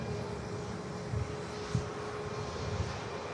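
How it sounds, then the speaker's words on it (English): Aer Lingus airliner climbing away after takeoff from Manchester Airport, a faint, steady distant engine drone with a few soft low thumps. "positive rate of climb, and the gear goes up into the fuselage of the Aer Lingus"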